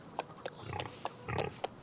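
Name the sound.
pigs oinking in Farming Simulator 25 video game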